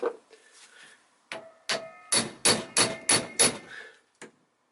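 A series of sharp metallic hammer strikes on a stuck part of a Toyota Corolla VVT-i, about seven blows in an uneven rhythm, close and loud, with brief pauses between them.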